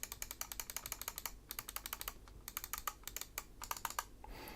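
The right button of an MSI Versa 300 Elite wireless gaming mouse is pressed again and again, giving a rapid run of sharp, close, quiet clicks in uneven bursts.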